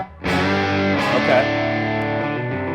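Electric guitar through a Toneking preamp set with a short slapback reverb, a loud sustained distorted chord ringing out and decaying, with a second strum partway through and a brief spoken word.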